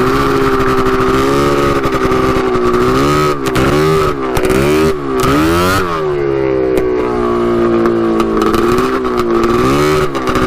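A custom 110 HP Yamaha Banshee quad's two-stroke engine screams loudly and close, its pitch sweeping up and down through repeated revs and throttle blips over about ten seconds.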